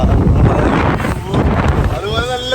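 Loud wind buffets the microphone as a speedboat races and jumps over water, with a constant roaring rush and engine drone.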